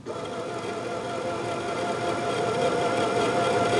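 A Angela Wolf LB5000S sewing machine winding its bobbin with the foot pedal pressed, producing a steady close mechanical whir that builds slightly in level and stays unbroken throughout.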